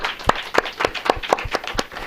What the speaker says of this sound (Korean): 우리 청년들에게 우리 한번 박수 한번 쳐주세요